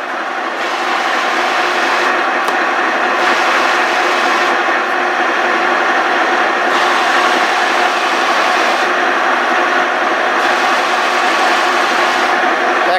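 Lion 16x60 Mod.16-M gap-bed engine lathe running its rapid travel feed, a steady loud mechanical drone and whine that holds unbroken for the whole stretch, with no talking.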